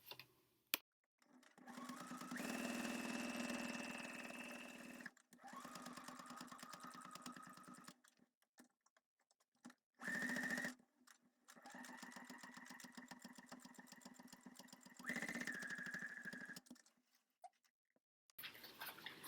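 Sewing machine stitching fabric for a Mandalorian Ahsoka headpiece, running in several steady bursts of a few seconds each, separated by short pauses and brief handling sounds, close and fairly quiet.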